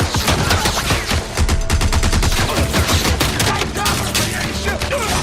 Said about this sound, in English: A Gatling gun! A Gatling gun!